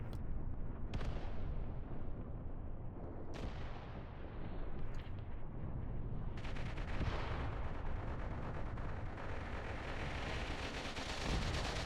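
Gunfire crackles through a forest battle in the World War II strategy game Mius Front, with sharp shots at irregular intervals, one near the start, and a denser burst of rapid firing rolling in from around the middle onward.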